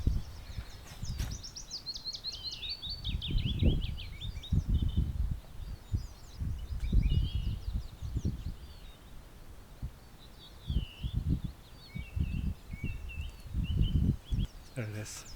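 A song thrush sings in a pine on an early spring day, its bright phrases coming in repeated bursts at moderate distance, partly under someone speaking nearby and soft rustling.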